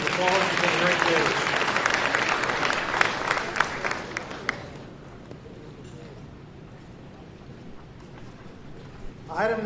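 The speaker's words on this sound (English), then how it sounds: "Give them all a round of applause." An audience at an award event auction claps for the bidders, a dense burst of applause that builds and then fades to quiet, with a short flurry of clapping returning at the very end.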